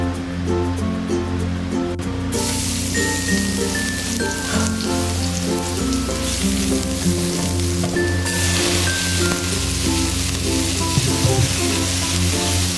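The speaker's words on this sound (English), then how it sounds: "Add some more oil and sauté the garlic and the peppers." Garlic and peppers sauté in oil in a wok for a beef and pepper stir fry, giving a steady, loud, rain-like sizzle that runs throughout under soft background music, with no one speaking.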